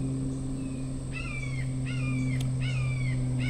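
A crow outside in a rural setting calls in a series of harsh, screeching caws, four separate bursts spread across a few seconds, moderately loud over a steady electrical hum.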